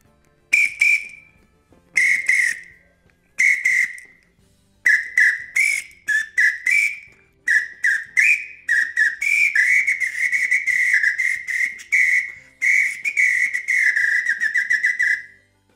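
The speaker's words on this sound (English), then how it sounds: "The samba whistle, which has three different tones." A three-tone samba whistle blows sharp shrill bursts, spaced at first, then quicker, denser blasts in a lively rhythm. Loud, close and with no talking.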